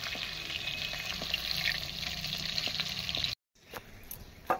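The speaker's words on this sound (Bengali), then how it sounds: "দেখো তেলের মধ্যে ফোড়ন দেওয়া হলো" Bay leaf and dried red chillies tempered in hot oil over a clay stove for a mutton dish, a steady close sizzle that cuts out abruptly near the end, then resumes more faintly with a few sharp crackles.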